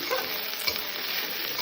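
Onions frying with green chilli and grated ginger in a pan, a continuous, even crackling sizzle close by with one faint clink partway through.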